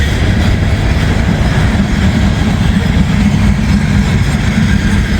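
A short coal train rolls past close by, a loud, steady rumble with continuous wheel clatter that holds for the whole stretch without a break.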